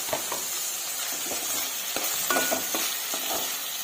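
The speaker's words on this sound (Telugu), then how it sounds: "ఇది కూడా బాగా ఈ ఆయిల్లో ఫ్రై చేద్దామండి." Chopped medium-sized tomato frying in hot oil in a pan for a chicken semi-gravy curry, giving a steady close sizzle with short scraping stirs, no talking.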